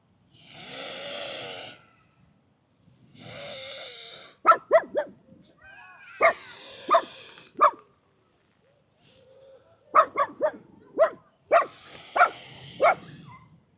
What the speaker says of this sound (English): this little dog came running up and it was one of those yappy little dogs